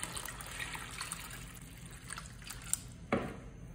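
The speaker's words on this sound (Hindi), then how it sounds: "अब हम पानी शामिल करेंगे।" Water poured into a pan while making semolina halva, a faint soft trickle and dribble with a brief splash near the end.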